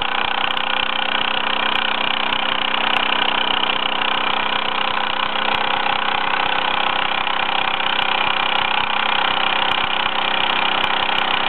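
A Bowman M175 toy steam engine in play-worn original condition, fitted with a refurbished lamp from an M180, runs with a steady, continuous hiss and mechanical whir at an even level throughout, with faint irregular ticks.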